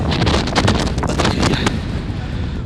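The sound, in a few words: strong wind on the Scottish NC500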